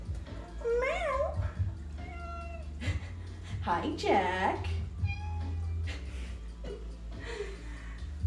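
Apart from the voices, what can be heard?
pet cat Jack meowing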